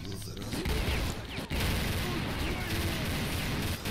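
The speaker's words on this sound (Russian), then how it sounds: "Пулеметик, давай, работай, родной." Sustained machine gun fire in the S.T.A.L.K.E.R. video game, a dense continuous rattle of rapid shots with a brief break early on, loud and steady throughout.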